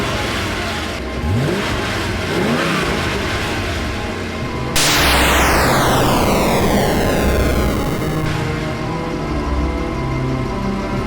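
A cartoon flying car's engine revs and roars loudly with no talk, rising in pitch and then sweeping into a steady, accelerating whine.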